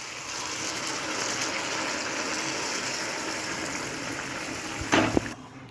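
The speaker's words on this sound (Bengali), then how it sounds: "এবার দিয়ে দেবো হচ্ছে উষ্ণ গরম জল।" Warm water poured steadily into a cooking pot while making shukto, a continuous soft gushing stream that holds for several seconds before a brief clatter and a sudden stop.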